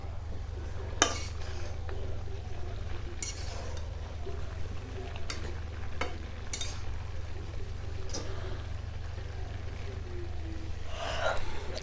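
Papaya and radish pieces are stirred with spices in a pot, a spoon scraping and clinking against the metal every few seconds over a steady low hum, close and fairly quiet.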